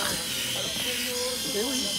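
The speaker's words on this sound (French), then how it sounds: "Tu vas dans ta salle de bain. Avec mon nouveau rasoir." A new electric razor buzzes steadily in a bathroom, a continuous close hum running under a person's speech.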